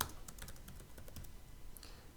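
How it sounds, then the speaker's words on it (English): Typing on a computer keyboard while entering an address into an app, with a quick, irregular run of soft, close key clicks and a short pause near the end. "you can start typing and it should come up"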